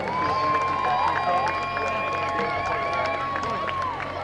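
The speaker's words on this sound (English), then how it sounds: "one more round of applause for your seniors of the Lawrence Cardinals" A stadium crowd at a varsity high school football game applauds and cheers seniors of the Lawrence Cardinals, a steady roar carried under a loud announcer's voice over the public address system.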